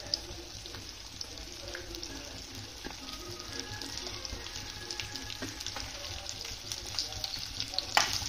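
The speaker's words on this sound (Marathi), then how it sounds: "तेल आपलं चांगलं तापलेलं आहे, त्यात आपल्याला भेंडी फ्राय करून घ्यायची आहे." Sliced okra (bhindi) fries in hot oil with a quiet, continuous crackling sizzle and faint scattered pops, heard close with no voices.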